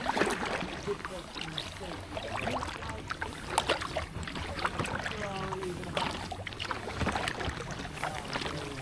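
Paddling an Itiwit PR500 inflatable packraft on open water in wind, with steady splashing and dribbling water from the paddle strokes, wind buffeting the microphone throughout, and a voice faintly in the background.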